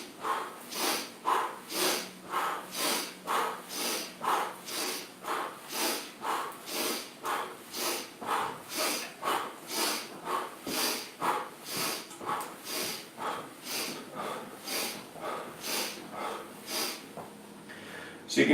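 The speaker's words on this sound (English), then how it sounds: "Breathing in as you punch forward." Steady, rhythmic breathing repeats about every half second for nearly twenty seconds, each close, airy inhale paired with a forward punching movement during a brain-health exercise routine, with no talking.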